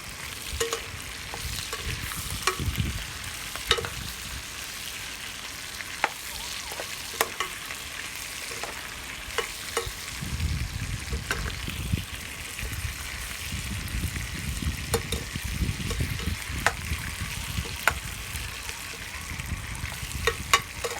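Chicken grilling in a pan with masala, giving a steady close sizzle and crackle, with occasional clinks and stirring knocks of a utensil against the pan and no talking.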